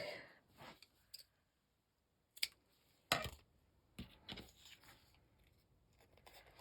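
Scissors snipping a chunk of purple lace for a bookmark, a few sharp close clicks and crisp cuts separated by quiet pauses, with light handling rustle.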